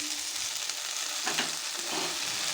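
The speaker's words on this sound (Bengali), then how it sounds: "শাকটা ধুয়ে রেখেছিলাম আবার দিয়ে দিলাম" Washed dheki shak greens hit frying onions in a pan, giving a loud, dense, steady sizzle close up, with a brief stirring shuffle partway through and no talk.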